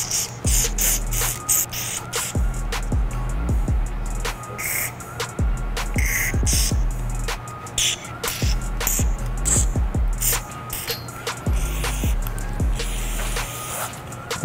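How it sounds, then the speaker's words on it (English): Carburetor cleaner sprayed through a nozzle onto a paramotor carburetor, loud close hissing bursts of aerosol repeated in short pulses with brief gaps, and faint clicks and squeaks between sprays. "get a good carburetor cleaner with the nozzle, and you can actually clean all the crevices of the actual carburetor"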